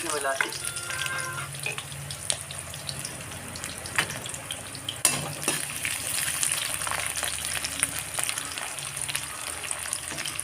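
Chopped medium onions hit hot oil in a pan for Assamese chicken curry, producing a steady, close, crackling sizzle with occasional sharper pops and stirring clatter throughout.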